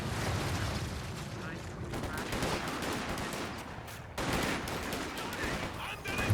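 Mortar fire amid a Company of Heroes 2 4v4 battle, a continuous clatter of gunfire and thudding impacts with a sharp burst partway through, faint commentary voices underneath.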